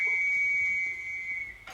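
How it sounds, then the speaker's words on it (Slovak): A referee's whistle is blown to start a football match, giving one long, steady, loud blast that holds for about a second and a half before cutting off, with a brief noisy burst at the end. "píska sa a hráme."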